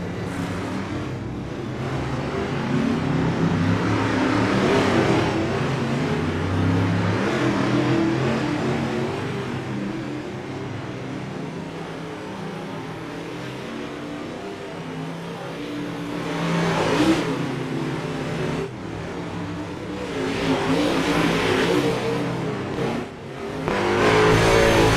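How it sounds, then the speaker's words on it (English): Open-wheel modified race car engines idle and rev continuously during a warm-up on a dirt oval at Lernerville Speedway, a loud steady roar with surges as cars pass nearby, no talking. "So enjoy the sound of the motors."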